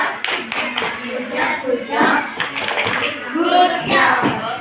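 A class of children in Indonesia performs a rhythmic 'good job' clapping chant as a group, with bursts of claps and young voices chanting along, lively and close in a classroom.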